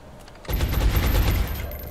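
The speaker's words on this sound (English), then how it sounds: "if I suppress the one on the corner, he might actually be blocking line of sight for his buddy in the middle" Sustained burst of suppressive automatic gunfire in XCOM: Long War, a loud dense rattle of rapid shots that erupts suddenly after a quiet moment and continues without pause.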